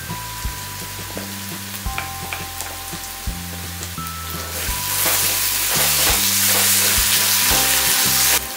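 Tomato paste added to frying tomatoes and onions in a kadai for dry kadai paneer; a close, crackling sizzle swells to a loud, dense hiss partway through, over steady background music.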